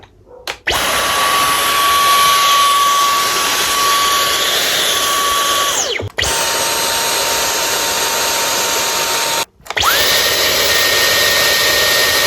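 A Dyson V11 Outsize Absolute cordless vacuum cleaner runs with a loud steady whine and a thin high tone, switched off and on twice, with short silent gaps between three runs.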